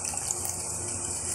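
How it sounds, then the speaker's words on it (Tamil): A pot of water with salt and turmeric boils on a kitchen stove, making a close, steady rushing, bubbling hiss without pause. "அடுப்பில் உப்பு மஞ்சத்தூளும் போட்டு தண்ணி கொதிக்குது."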